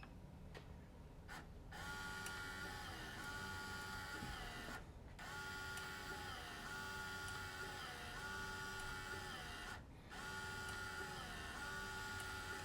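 Printer running steadily as it prints combustion test results from a heating-engineering analyser, a continuous mechanical whir with short gaps between printed lines, close and alone with no voices.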